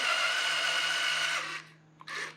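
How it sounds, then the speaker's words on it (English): A power drill bores a pilot hole into the end piece of a wooden board, a loud steady whine for about a second and a half, then it stops and gives one short burst. "To drill a pilot hole on the end piece, you'll place your drill bit, drill the depth of the screw"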